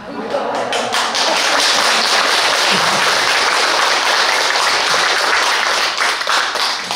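Audience at a Korean Buddhist temple dharma talk clapping in greeting, a burst of loud close clapping that holds steady for several seconds with some sharp individual claps standing out.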